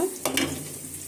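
Bay leaf and cinnamon fry in hot oil in a wok with a soft, quiet sizzle, interrupted by two brief scraping stirs, lasting only about a second.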